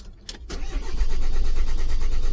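A van's engine cranks briefly with a couple of sharp clicks, then catches and settles into a steady, loud, close rumble.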